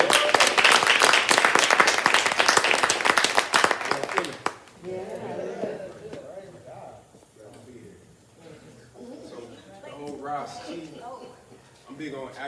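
An audience gives a loud round of applause for about four seconds, then the clapping stops abruptly and someone speaks alone at a moderate level for the rest of the clip.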